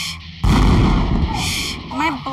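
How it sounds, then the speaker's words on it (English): A loud, close blast goes off on command, a sudden heavy boom that rumbles on for over a second, followed by a shouted voice as it fades. "Fire in the hole!"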